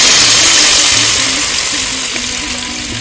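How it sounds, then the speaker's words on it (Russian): Water hits a hot pan of frying carrot chunks for a festive plov, bursting into a loud, close, hissing sizzle that slowly fades as it settles. "Теперь добавляем воду, чтобы она покрыла нашу морковь."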